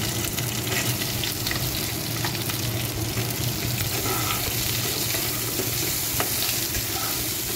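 Potato pieces frying in hot oil in a pan for an Assamese fish curry give off a steady, loud, close-up sizzle with faint stirring clicks and no voices.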